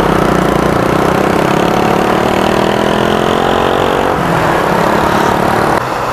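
A small 2016 Rusi motorcycle engine runs steadily at a close idle, its even mid-range drone holding for about six seconds with a slight dip near the end and no talking over it.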